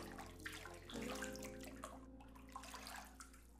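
Bath water sloshes and splashes in a filled bathtub, with steady close movement and small bursts of splashing, no voices.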